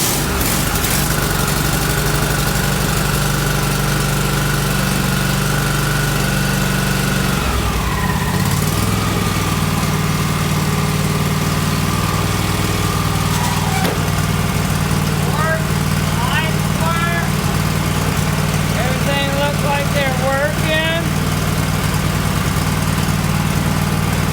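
A John Deere L130 riding lawn mower engine runs loud and close in a steady drone. Partway through, its pitch and note shift, and thin chirping squeals rise over the running engine later on.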